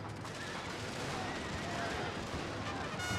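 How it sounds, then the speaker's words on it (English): A whole regiment firing guns at a fleeing general in a Prussian-era strategy battle game, a dense, distant rolling crackle of massed musketry that goes on without a break, at a low level. "He's got an entire regiment firing after him."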